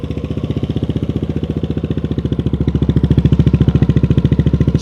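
A modified Yamaha Aerox scooter engine runs close by with a loud, fast, evenly pulsing idle that builds slightly toward the end, and no one speaks.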